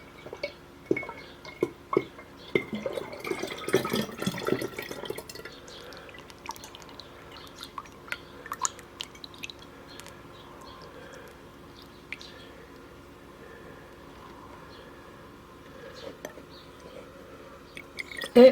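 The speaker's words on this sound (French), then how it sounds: "J'ai pris un entonnoir, une bouteille et je vais la remplir." Homemade oat milk trickles through a funnel into a bottle in quiet, uneven drips and splashes, busier early on and then sparse, close by in a still room.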